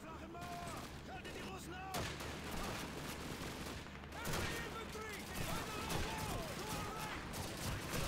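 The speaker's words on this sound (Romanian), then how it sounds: "A tras și tancul, perfect." Tank fire and gunfire in the Call of Duty video game, a continuous barrage of overlapping shots and heavy blasts under a dense battle din, steady and fairly quiet in the mix.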